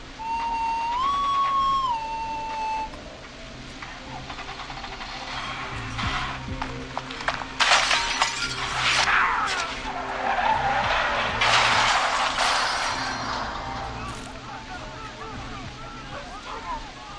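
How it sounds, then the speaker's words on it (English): A car crash in a video game, with tires skidding and squealing, then loud crunching impact and shattering glass bursts, under a tense music drone and brief voices. "Oh, we crashed."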